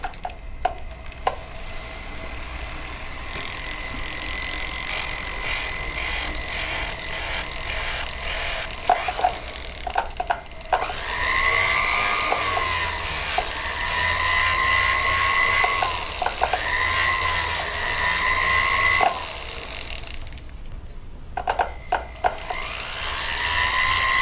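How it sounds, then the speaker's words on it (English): A rotary tool wheel whirs against a soldered bar necklace piece, giving a high, tonal, wavering whine that rises and falls with a few clicks and short stops, close and loud, without speech. "I'm going to get the wheel going."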